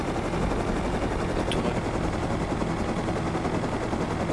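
Scrap helicopter in the video game Rust flying, a loud continuous rotor roar and engine drone filling the whole stretch without pause.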